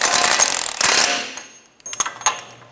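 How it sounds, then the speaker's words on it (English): Power tool snugging down the front axle nut on a 2012-2016 Subaru Impreza after a steering knuckle replacement, heard as a loud close rattling burst that fades, followed by a few brief mechanical clicks and knocks. "Snug down the axle nut."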